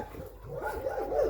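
A dog at a crowded shelter housing about 250 dogs whimpers and grumbles in a continuous wavering whine, fairly close and moderately loud, with no talk over it.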